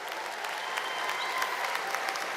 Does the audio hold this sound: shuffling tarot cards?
no